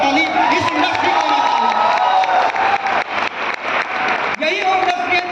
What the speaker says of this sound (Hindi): एक बार जोरदार ताली इस इंडस्ट्री को।